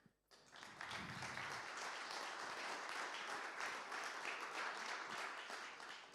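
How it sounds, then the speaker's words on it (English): A conference audience breaks into applause at the end of a closing plenary talk, with steady, full clapping that swells quickly and continues at an even level for several seconds before easing slightly. "As you can hear from the applause in the audience"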